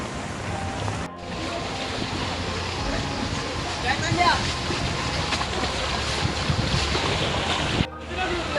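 Heavy rain and rushing water in Mumbai, a dense, continuous outdoor wash of noise with wind buffeting the microphone, steady throughout with two brief dropouts.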